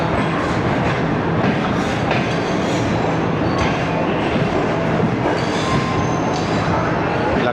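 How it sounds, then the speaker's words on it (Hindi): A New Shalimar Express passenger train rolls out of a station toward a single-line branch section, a steady loud rumble of wheels and carriages with faint clacking, continuous throughout. "हमारे इधर पहुंचते ही उसका डिपार्चर विसल हो गया"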